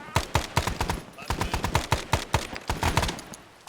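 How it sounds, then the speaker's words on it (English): Rapid bursts of automatic gunfire in the ArmA military game during a break-contact training drill, with repeated sharp shots in quick rhythmic volleys, loud and close, continuing throughout with no clear voices. "Taking fire from the northwest."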